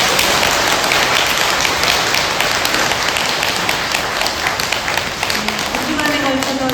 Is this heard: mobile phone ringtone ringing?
no